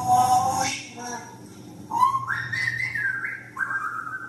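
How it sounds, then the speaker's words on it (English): A parrot whistles nearby in clear, bright tones, first a few short notes, then longer rising and steady whistled phrases, loud against a quiet room. "Yo, he's singing, he's whistling."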